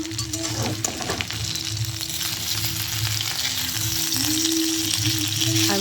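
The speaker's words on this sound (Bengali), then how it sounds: "আমি কিছুক্ষণ ভালোভাবে নাড়তে থাকবো, যাতে ভালোভাবে মশলা এবং সবজিগুলো ভালোভাবে ভাজা হয়ে যায়" Spices and vegetables for shukto fry in a pan with a steady, loud sizzle that runs throughout, while a utensil stirs them with intermittent scraping. No one speaks.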